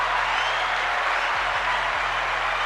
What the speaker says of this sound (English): Round of applause for Corey Long.